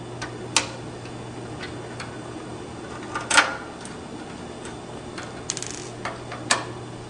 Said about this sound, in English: Take your T8 driver and just remove those screws.